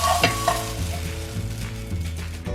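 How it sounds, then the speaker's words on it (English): An omelette cooks quickly in a hot pan, a close, bright sizzle with a few scraping stirs and taps of a utensil against the pan. "especially when it's cooking quite quickly like it is in this pan"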